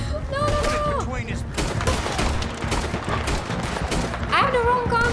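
Dense Red Dead Redemption 2 gunfight, rapid overlapping shots and volleys crackling loud and close throughout, with voices shouting over the shooting.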